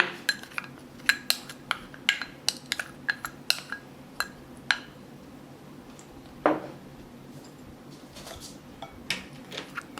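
Utensils toss a Korean spicy oyster salad with a thick sesame oil dressing in a bowl. Crisp clinks and taps ring out close by in an uneven rhythm, with one louder scraping knock midway and no talking.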